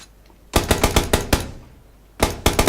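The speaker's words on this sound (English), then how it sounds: "Another guy just killed the last one with a shotgun." Rapid gunfire in the video game Battlegrounds, a fast loud run of about eight sharp shots followed by a short gap and another quick burst, punchy and close, with no speech over it.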